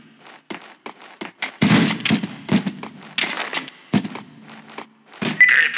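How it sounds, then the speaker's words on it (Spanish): Gunfire in the video game Max Payne 2: a string of sharp, loud shots and impacts scattered irregularly through the scene, some in quick bursts, mixed with other clattering action sounds. "¡Todavía se oyen disparos!"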